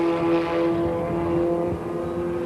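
Formula Ford race cars roar around Oran Park in a 1988 Motorcraft Formula Ford series race, a steady droning engine note with revving shifts, fairly close and loud, slightly fading toward the end.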